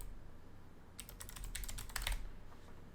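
Quick burst of typing on a computer keyboard, about a second of close, crisp key clicks in a quiet room, with no talking.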